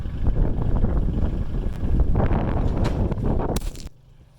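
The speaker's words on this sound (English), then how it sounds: "It's just too windy." Strong wind buffets a phone microphone outdoors during water tank base prep work, a loud rumbling roar with gusty surges that cuts off abruptly near the end, leaving quieter background.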